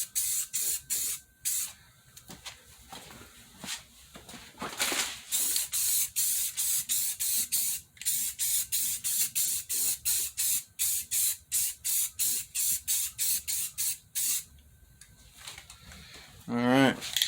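Spray paint hisses from an aerosol can in short, repeated bursts while light coats go onto a center console for a 1993 GMC C3500, close and steady, with a voice speaking briefly at times.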